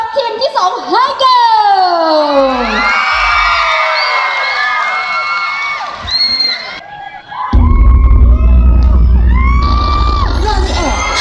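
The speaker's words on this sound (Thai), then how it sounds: "ขอเสียงปรบมือต้อนรับทีมที่2" A crowd at a cover dance contest cheers and shouts loudly with whoops and children's yells, then clapping and cheering swell together near the end.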